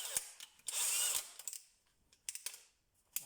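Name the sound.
DeWalt DCD996N cordless drill drilling wood, 10 mm bit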